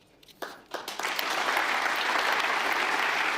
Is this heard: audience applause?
yes